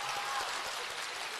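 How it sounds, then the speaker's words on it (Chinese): Audience applause in a crosstalk comedy theater, a steady dense wash of clapping throughout, moderately loud and continuous with no voices over it. "不用鼓掌"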